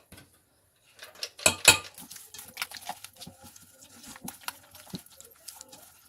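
A spoon scraping chocolate cake batter in a bowl: close, irregular scrapes and soft clinks against the bowl after a brief silence, continuing in uneven strokes.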